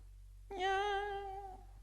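A voice imitates a cat's meow during a church sermon, a single drawn-out nasal mew rising then falling, close and clear over a low steady hum.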